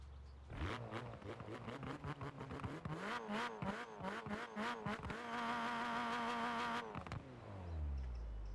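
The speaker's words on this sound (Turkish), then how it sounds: "İlk başta arabanın size bir sesini dinleteyim." A car engine in a video game revs repeatedly in rising bursts, then holds a steady high-pitched whine for a couple of seconds before cutting off; loud, close and alone.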